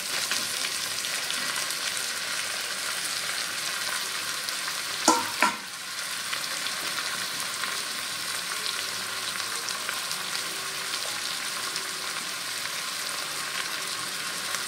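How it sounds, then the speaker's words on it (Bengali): Ash gourd pieces sizzle steadily in a hot pan, close and constant, with a brief clatter of stirring partway through before the frying settles back to an even crackle. "এবার দিয়ে দেবো আমি চাল কুমড়োগুলো।"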